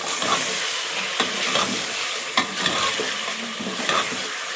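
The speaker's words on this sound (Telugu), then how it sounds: "వేసి మంచిగా కలుపుదాం" Steady stirring and scraping of half a kilo of chicken in a pot over a sizzling, frying background while making haleem, with a few sharper clinks of the utensil against the pot's side.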